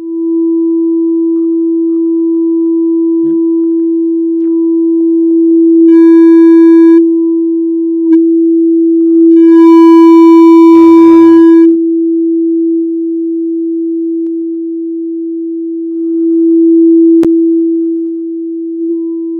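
A steady synthesizer tone drones throughout, with brief bursts of resonant, buzzy filtered sweeps and chirps rising over it midway, loud and electronic.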